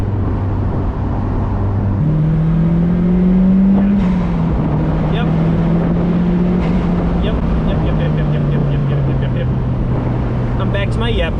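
A Mazdaspeed Miata with a turbocharged engine drives along narrow B roads, its steady engine drone rising and falling in pitch as it changes speed, loud and constant with road noise underneath.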